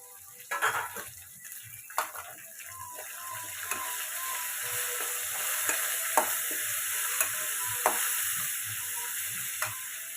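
Capsicum and coriander leaves fry in a pan for capsicum rice, a constant hiss with occasional soft clicks and scrapes of stirring, steady and close.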